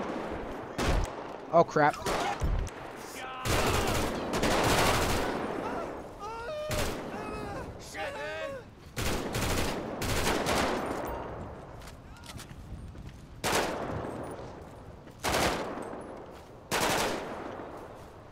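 Gunfire rings out in the GTA 5 zombie apocalypse mod as repeated loud bursts of automatic fire and single shots, with someone talking over and between the volleys.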